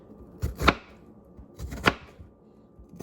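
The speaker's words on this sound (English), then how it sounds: "I'm just keep chopping them up in smaller pieces" A kitchen knife chops food on a cutting board in a few distinct pairs of sharp, close knocks with quiet pauses between them.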